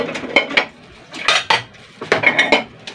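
Plates and dishes clink and clatter as they are handled, a series of sharp, close ceramic knocks and chinks in uneven bursts, with no talking.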